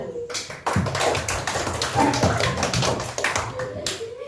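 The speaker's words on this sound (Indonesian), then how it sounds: "Kita kasih tepuk tangan kelompok 1." Classroom students clap for a group after its presentation, a close burst of hand claps with voices mixed in and ambient chatter around it.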